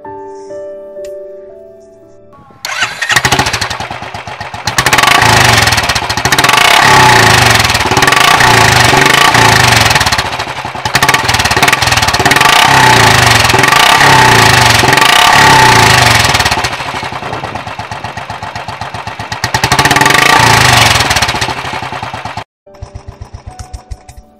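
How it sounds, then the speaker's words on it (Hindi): Motorcycle fitted with a Barrel Exhaust Cannon 2.0 silencer, loud throbbing exhaust revving and idling in long sustained bursts with pulsing beats, close and dominant, with a pause midway and a quick cutoff near the end. "बट साउंड आपको टेंटेटिव आइडिया देगा कि ये एग्जॉस्ट साउंड कैसे करता है"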